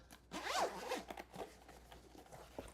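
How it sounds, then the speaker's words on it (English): A single close zipper on a Nintendo Switch 2 carrying case being pulled open in one quick rasping sweep, followed by faint handling noises. "Again, we open it with the zipper."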